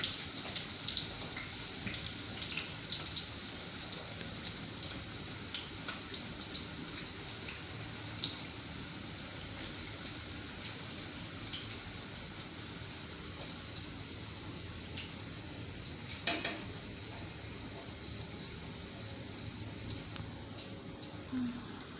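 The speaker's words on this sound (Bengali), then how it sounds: "গ্যাসটা একটু কমিয়ে ভাজবো যাতে ভেতরে কাঁচা না থাকে।" Papdi dough crisps frying in oil over a low gas flame: a steady, soft, close sizzle with scattered small crackles and pops throughout, and no talking.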